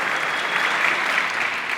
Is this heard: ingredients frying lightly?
no